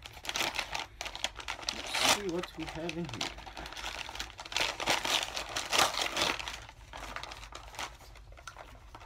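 Christmas wrapping paper on a package is torn and crinkled open in loud, close bursts of rustling. A person talks over the unwrapping.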